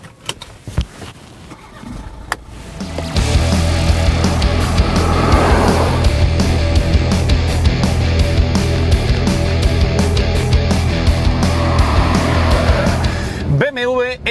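A BMW X4 xDrive25d SUV with a 231 hp four-cylinder diesel starts up and pulls away, its steady low engine drone running close and continuous for about ten seconds before fading to clicks and interior noise.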